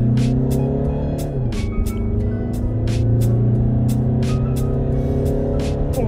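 A VW Tiguan II engine hums steadily and its pitch slowly climbs under acceleration in S mode, with a regular light ticking running over the drone.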